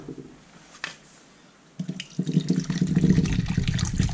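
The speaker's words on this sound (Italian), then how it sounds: "Quindi voglio prendere un recipiente, versarci dell'acqua" Water poured into a container: a faint clatter first, then a splashing, gurgling stream that grows louder and fuller, close and alone with no voices.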